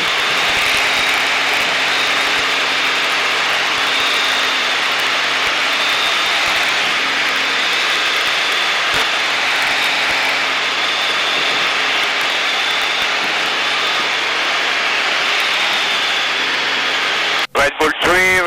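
Steady, loud aircraft engine roar fills the cabin throughout a Red Bull G-Flight aerobatic ride, a broad continuous drone that ends abruptly near the close with a brief radio burst.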